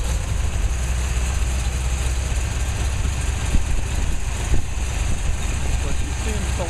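A 1969 Corvette V8 with new Profiler heads and intake idles steadily with a deep, continuous rumble close by, somewhat uneven and loping, while a person talks faintly over it.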